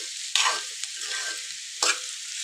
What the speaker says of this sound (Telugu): ఇట్లా ఫ్రై చేస్తుంటే మంచిగా కొబ్బరి మంచిగా పట్టుకుంటుంది స్పైసెస్ కొబ్బరికి